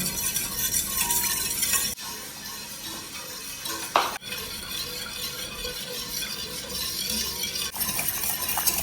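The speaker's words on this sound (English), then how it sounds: "So just on a medium heat, and then you go ahead and continuously stir." Custard is stirred continuously in a pot over medium heat, a steady scraping swish with a brief clank midway and one short break, close and moderately loud.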